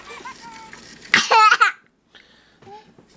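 A Fingerlings Baby Monkey Finn toy gives a short burst of high electronic laughter in the middle, with quieter babbling toy sounds before and after.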